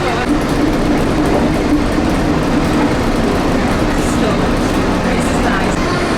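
A steady, loud rumble of the Walt Disney World monorail rolling along its track, heard from inside the car as a continuous drone with low murmuring voices underneath.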